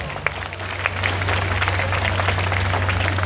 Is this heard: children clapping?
yes